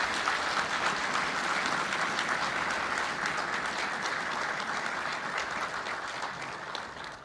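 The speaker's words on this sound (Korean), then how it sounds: "다시 한번 힘찬 격려의 박수" Sustained, dense applause from a large audience at a commissioning ceremony for 558 new army, navy, air force and marine officers, steady throughout and tapering slightly at the close.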